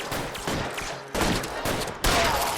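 Gunfire in the video game L.A. Noire, a 1940s Los Angeles crime shooter: rapid volleys of loud, close shots in several sharp bursts, with a heavy crack at the end.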